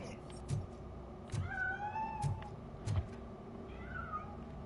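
A cat in the video game Robocop Rogue City meows several times in short rising calls while escaping, heard close over a low background hum alongside other game sounds.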